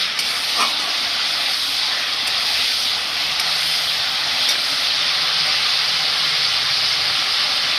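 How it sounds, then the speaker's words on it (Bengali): Cardamom, cinnamon, cloves and chilli sizzle in hot oil for a chicken curry: a continuous, close, bright hiss of frying with occasional small pops, no voices. "এটা একটু ভেজে নেব।"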